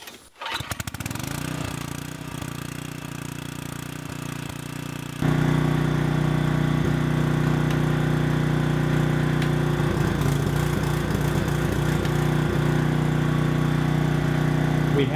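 A small engine catches and runs after a dose of carb cleaner, loud and close. It settles into a steady drone, then jumps to a stronger, even roar partway through and holds there.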